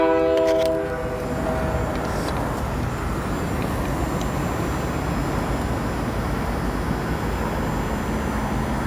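A freight train passes near O'Hare airport. A loud horn blast sounds at the start, then steady, close rumbling and clattering of rail cars rolling by continues throughout.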